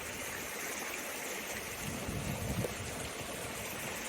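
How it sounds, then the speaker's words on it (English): A small creek on the Pacific Crest Trail rushes in a steady, close, continuous roar of flowing water, with no voices. "This is the most water I've seen on the Pacific Crest Trail so far, by far. It's a roaring little creek."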